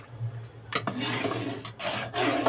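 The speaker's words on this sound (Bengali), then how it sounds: "এইভাবে ভালো করে পাকিয়ে নেব আর এইভাবে নাড়াচাড়া কিন্তু দিতেই থাকতে হবে" Grated coconut mixture with palm pulp stirred in a pan, soft scraping and rubbing strokes in irregular bursts, close and moderately loud.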